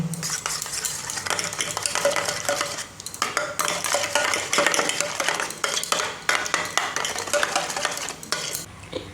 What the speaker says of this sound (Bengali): এবার এটাকে একটু মিক্স করে নেব।